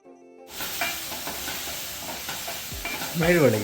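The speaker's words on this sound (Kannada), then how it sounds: "ಒಂದು ನೀರುಳ್ಳಿ, 2 ಟೊಮೆಟೊ, ಸ್ವಲ್ಪ ಬೆಳ್ಳುಳ್ಳಿ, ಕಾಯಿ ಮೆಣಸು, ಉಪ್ಪು ಇಷ್ಟನ್ನು ಸ್ವಲ್ಪ ಎಣ್ಣೆಯಲ್ಲಿ ನಾವು ಫ್ರೈ ಮಾಡಬೇಕು." Onion, tomato, garlic and green chilli with salt fry in a little oil for a spicy chutney, giving a steady close sizzle with stirring scrapes throughout and a louder burst of sizzling near the end; no one speaks.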